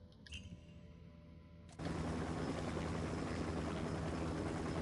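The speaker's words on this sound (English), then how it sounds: "my helicopter's getting beaten up" A helicopter engine in Ghost Recon Wildlands, with the aircraft taking damage, starts as a lighter whine with clattering hits and then jumps to a loud, dense, continuous roar that fills the rest of the moment.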